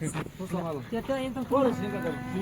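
A buffalo at a livestock market gives a short, deep lowing call amid nearby voices and general market noise.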